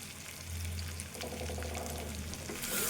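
Coriander fries with potato curry in a pan, a steady soft sizzle with a low hum underneath and light stirring noises, quiet and close throughout with no talking.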